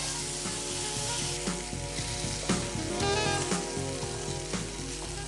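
Boneless meat roasting in a pan in a home kitchen gives a steady, loud sizzle throughout, with occasional clinks and stirring sounds and no talk.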